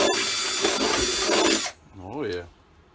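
A power drill drives screws for a kegerator mount, a loud, steady whirring burst that stops after about a second and a half, followed by a short voice-like murmur.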